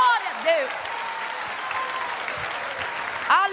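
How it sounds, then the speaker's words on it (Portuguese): Church congregation applauding during a sermon, a steady dense clapping wash over several seconds, with a preacher's voice rising over it at the start and end. "quando for para aplaudir, vamos fazer com vontade"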